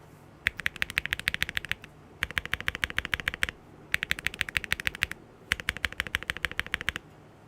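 Bursts of fast, crisp keystrokes on a Neo65 Core Plus mechanical keyboard, typed in four separate runs with short pauses between them, clear and close with no talking.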